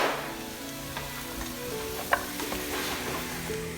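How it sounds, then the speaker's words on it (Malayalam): Chicken with cut capsicum and salt stirred and fried in a pan, a steady close sizzle with intermittent scraping stirs and one sharp clack partway through. "പിന്നെ കട്ട് ചെയ്തിട്ടുള്ള ക്യാപ്സിക്കം കൂടെ ഇട്ട് കൊടുത്തിട്ട് നല്ലോണം ഒന്ന് മിക്സ് ചെയ്തെടുക്കുക."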